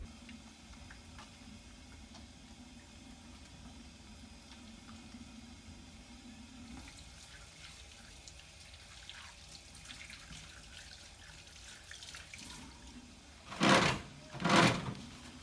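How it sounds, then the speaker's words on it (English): Water running from a faucet in a sink during handwashing, a steady soft hiss under room noise, followed by two loud splashing or handling bursts near the end. "And then you would turn the faucet off with the paper towel"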